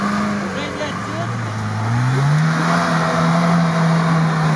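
A Jeep Wrangler Rubicon engine strains and revs steadily as it climbs steep frozen sand, a loud, sustained drone rising in pitch midway, with people talking faintly nearby.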